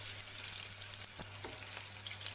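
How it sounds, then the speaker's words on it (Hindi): Prawns deep frying until crispy, a steady fine sizzle and bubbling of hot oil close by, with a low hum underneath and a few soft clicks, no talking. "हमें अच्छे क्रिस्पी फ्राई करना है।"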